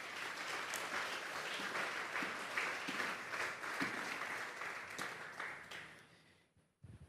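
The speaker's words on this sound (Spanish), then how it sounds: "Den un fuerte aplauso pues al Señor." A church congregation applauds steadily and fairly loudly for several seconds, the clapping thinning and fading out near the end.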